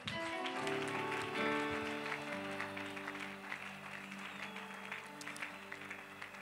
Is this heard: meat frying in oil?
no